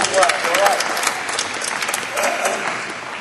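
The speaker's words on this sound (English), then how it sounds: "A round of applause" Audience applause fills the room at a media-agency quiz panel, a steady patter of many hands clapping at moderate volume, with a voice heard briefly over the start.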